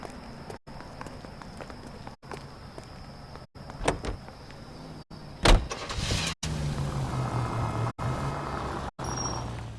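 Period car in L.A. Noire, with door clunks, mechanical handling and an engine starting and settling into a steady idle hum, close and moderately loud.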